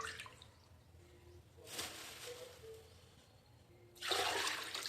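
Dirty water draining off freshly washed fish in a home kitchen: two splashing bursts of poured water, the second louder and longer, with quieter trickling between them.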